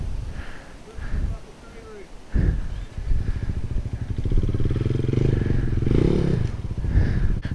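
A 450cc dirt bike labours up a muddy hill, its engine revving and droning steadily from a moderate distance, with clattering bursts and a few short knocks, while people talk loudly over it.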